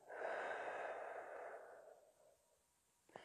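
A long, soft exhale through the mouth during a morning stretching routine, close and breathy, tapering off over about two seconds before a faint short intake at the end.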